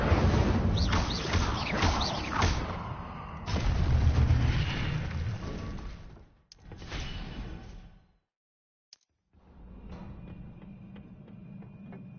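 Incendio fire spells cast in a Harry Potter style game on PS4, loud whooshing flame bursts and rumbling booms in dense waves, broken by a brief moment of silence before the fiery roar resumes.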